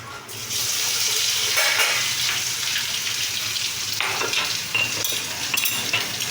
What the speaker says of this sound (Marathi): मी पहिले ना जिरं टाकून घेते